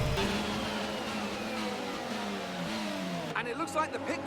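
An F1 car in F1 22 racing at Jeddah, its engine whining steadily at high revs with gear shifts, then a brief burst of tire and engine noise as the car passes other cars.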